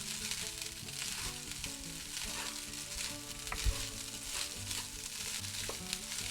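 Fried rice sizzles and crackles in avocado oil in a hot pan, a steady, close frying hiss with occasional stirring scrapes and no voices.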